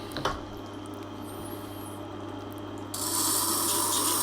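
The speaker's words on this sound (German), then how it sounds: "und dann beginnen wir mal zu schleifen" A Tormek T-4 water-cooled sharpening system starts grinding a blade on its wet stone, a steady low hum joined partway through by a brighter, continuous hiss of steel rubbing the stone, fairly quiet and close.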